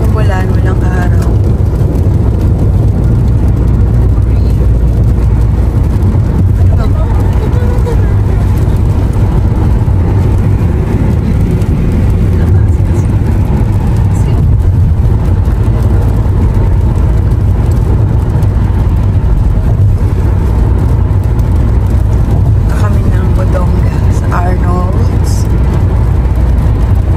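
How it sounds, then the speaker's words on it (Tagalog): Rush-hour traffic on a rain-soaked road after a day of steady rain, many vehicles passing in a loud, continuous roar of engines and tyres close by, with voices talking over it. "Rush hour na, no? Kaya maraming sasakyan."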